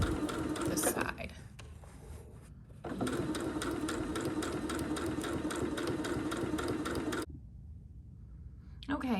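A sewing machine stitches rows of a quilt block together in long steady runs, a fast continuous mechanical whir with a short pause between runs and a stop near the end.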